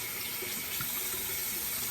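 Warm tap water runs steadily from a faucet over a makeup brush into a sink, a constant close hiss with no voices.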